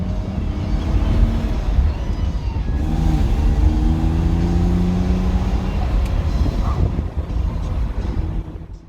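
A BMW E36 328i with its six-cylinder engine revs loudly and close up, a deep, rich engine drone rising and holding through the whole stretch.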